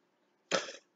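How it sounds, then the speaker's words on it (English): One short, sharp cough from a nearby person, a single abrupt burst that trails off within half a second in an otherwise quiet room. "And I apologize for my coughing."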